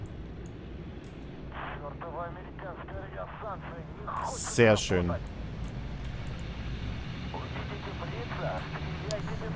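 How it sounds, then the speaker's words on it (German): Helicopter in the WARNO wartime strategy video game, a rotor and engine drone running throughout under someone speaking German, with a brief louder burst midway. "Da ist noch ein weiterer Hubschrauber."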